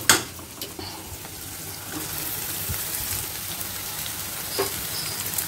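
Spring onions sautéing in a pan with already softened onions for a lunch box dish: a steady, even sizzle and crackle throughout, close and moderately loud, with a couple of faint knocks and no talk.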